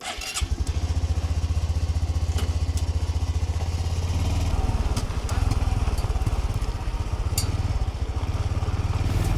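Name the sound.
Honda motorcycle engine running on desert trails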